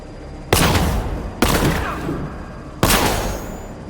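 Three sharp gunfire bursts ring out in Batman: Arkham Knight, each a loud crack followed by a decaying rattle, spaced about a second apart, with faint background game sound.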